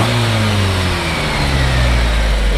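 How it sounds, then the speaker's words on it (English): Engine of a 1971 Datsun 510 revving loudly and close, a steady strong drone with slowly shifting pitch and no talking. "Go ahead and rev it up again."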